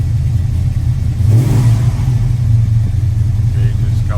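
A 1978 Dodge W150 Macho Power Wagon with a 440 V8 idles steadily with a low, rumbling tone, briefly swelling in a short rev around the middle before settling back to an even idle.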